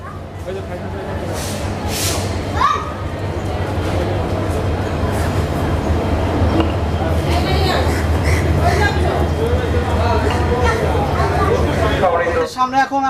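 Busy platform ambience at Chattogram railway station: crowd babble and nearby conversation over a low steady hum of idling rail equipment, with occasional clanks and calls in the background.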